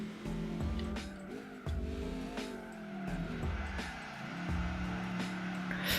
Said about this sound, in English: both of these cars have exciting V8s, and they sound a little different